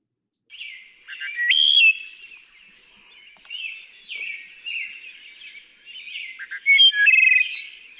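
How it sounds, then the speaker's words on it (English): Wood thrush sings alone and clear, a sequence of flute-like fluting phrases with rising and falling notes and trilled endings, separated by short pauses. "the wood thrush."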